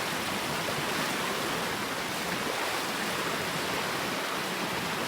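River water rushing around someone wading across on foot, a steady close broadband wash of flow with no pauses and no voices.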